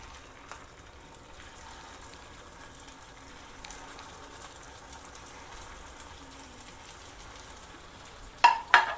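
Potato patties shallow-fry in a little oil in a pan for ragda pattice. The sizzle stays faint and steady, then a few loud clattering knocks come near the end.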